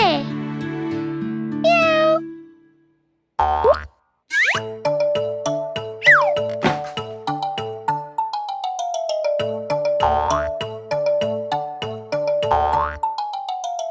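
A cartoon kitten stuck on top of a cupboard mews repeatedly in bright, bouncy cries, mixed with springy boing and plinking musical effects and a steady playful score, loud and close throughout.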